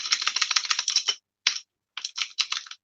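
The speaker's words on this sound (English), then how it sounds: "I think I need a quieter keyboard for this." Rapid keystrokes clatter on a close computer keyboard, a burst of quick clicks, a brief pause, a single tap, then another short run of typing.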